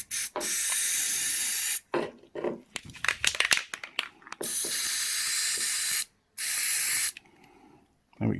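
Silicone spray hisses onto the right-hand switchgear of a Honda CB750 motorcycle in several short and longer bursts, close and loud, separated by brief pauses and small handling clicks.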